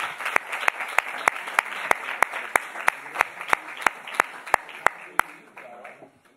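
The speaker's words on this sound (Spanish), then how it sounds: "damos un fuerte aplauso y que vamos a disfrutar de la música." Audience applause at a presentation of a project on the history of the Gitano people, broadband clapping with a steady run of sharp, evenly spaced loud claps standing out above the crowd, fading slightly toward the end.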